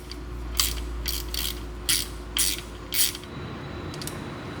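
A ratchet tightens the oil drain plug on the aluminum oil pan of a 2010-2015 Chevrolet Volt, giving several close, sharp bursts of clicking with short pauses between them over a steady low hum.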